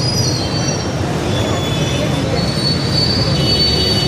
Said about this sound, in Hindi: ये है जी यहाँ का मेट्रो स्टेशन, ये टिकट ऑफिस प्लेटफॉर्म।